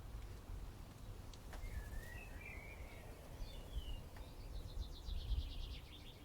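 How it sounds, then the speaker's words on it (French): Several birds sing faintly from the treetops of an autumn forest, with brief chirps and thin warbling phrases scattered over a steady low rumble of background ambience. "Quelques oiseaux chantonnent au-dessus de votre tête depuis la cime des arbres."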